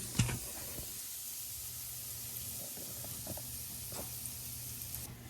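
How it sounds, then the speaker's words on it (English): Hot oil sizzling in a frying pan before chicken meatballs go in, a steady soft hiss with a few faint clicks and pops, close and alone throughout. "that's the oil going"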